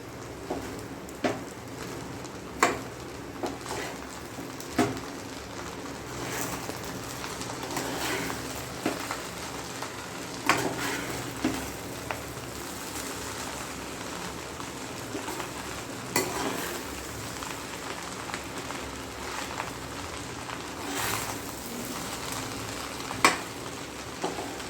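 Chicken egg fried rice being stirred in a hot pan with pepper powder, a steady sizzle under repeated scraping and clinking of a spoon against the pan at irregular intervals.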